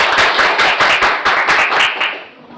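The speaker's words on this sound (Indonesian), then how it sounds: "kasih tepuk tangan ya." Classroom applause for a student: a short burst of quick, fairly close hand clapping from a group in a lesson, loud and rhythmic, fading out near the end with no voices over it.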